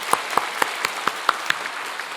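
A church congregation at a Sunday worship service claps, with a slow, regular rhythm of distinct claps over a light background wash.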